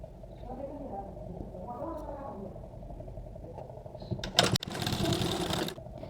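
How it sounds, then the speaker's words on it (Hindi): A domestic sewing machine runs in a short, loud burst of rapid stitching on the tucks of a blouse, after a stretch of quieter handling and soft room noise. "मैं इस वाले टेकिन के ऊपर पहले एक सिलाई लगा लूँगी"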